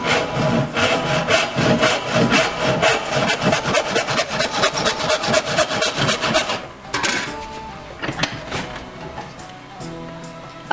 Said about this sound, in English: Let's get started cutting out this handle.